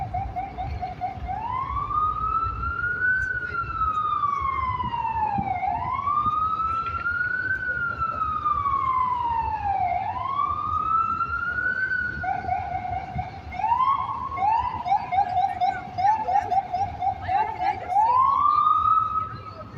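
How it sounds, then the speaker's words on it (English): An ambulance siren wails in slow rising and falling sweeps, then switches to a faster yelp, loud over faint street noise and voices. "That is an ambulance."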